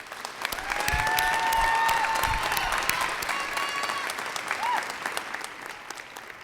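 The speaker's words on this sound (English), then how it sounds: "Can we give them a round of applause?" An audience at an academic honors convocation applauds summa cum laude graduates, a dense wash of clapping swelling quickly, holding, then thinning out over several seconds, with a brief voice faintly audible.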